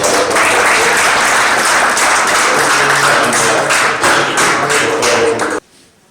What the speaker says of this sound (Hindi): ताड़ियां बजाओ।